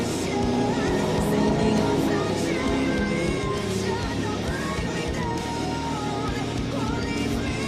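Short-track race cars at Cottage Grove Speedway roar away together at the green flag, a dense sustained engine din with a crowd faintly audible beneath.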